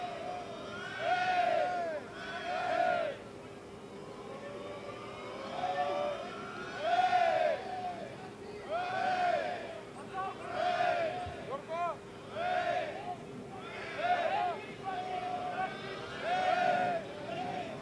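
A crowd at a mini football match between England and Austria rises in repeated, swelling waves of cheering and chanting at a distance, steady under a commentator's voice talking throughout.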